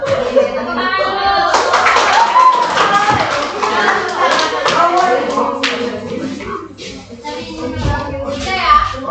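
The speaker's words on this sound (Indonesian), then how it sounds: "Tepuk tangan dulu." Classroom clapping at the close of a mathematics lesson, hands tapping under steady talk and children's voices, scattered claps continuing throughout rather than one burst.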